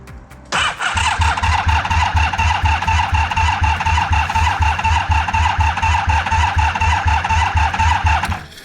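A 1986 Honda VF1000R motorcycle engine fires up for the first time after recommissioning, a brief starter crank catching into a loud, close, steady pulsing idle with a rhythmic low throb and a faint squeal.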